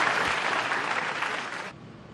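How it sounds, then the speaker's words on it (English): A big snooker crowd in Guangzhou at the 2016 China Championship semi-final applauds a break, a loud dense wash of clapping that ends abruptly after under two seconds. "listen to the reception from this big crowd here in Guangzhou"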